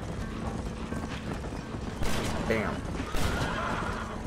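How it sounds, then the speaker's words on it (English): A horse's whinny rises over hoofbeats and busy game noise in the Western video game Red Dead Redemption, with a man briefly exclaiming partway through. "I guess our horse is just following us."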